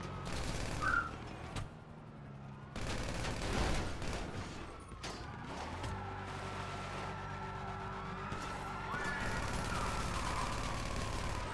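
Gunfire in GTA Online, bursts of shots breaking out amid a busy street soundscape with wailing police sirens and passing traffic, moderately distant and layered together.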